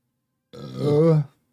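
A single short, deep burp from a man, rising and falling over about a second in otherwise silence.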